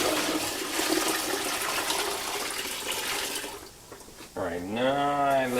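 A bucket of water poured out, a steady loud splashing rush lasting about four seconds before it tapers off, followed by a voice at the end.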